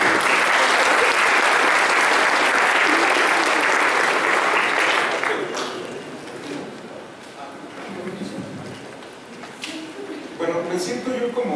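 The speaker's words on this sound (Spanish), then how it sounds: "Por favor, denle un gran aplauso a José Luis Chiquete" Large audience applauding a speaker at a Python programming talk, loud dense clapping that tapers after about five seconds, with some voices and scattered claps continuing beneath.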